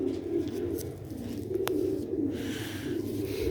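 A Sialkoti Ali-breed pigeon coos in soft, low, rolling phrases that repeat steadily, faint but continuous against a quiet room background.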